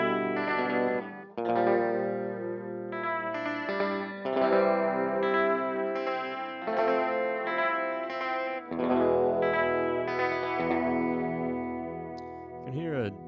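Electric guitar chords played through a TC Electronic Alter Ego V2 delay pedal set for modulated delay, ringing sustained strums with wavering, chorus-like repeats and a pitch-bending swirl at the end, loud and close with no talking.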